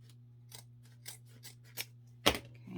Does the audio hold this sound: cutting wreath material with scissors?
yes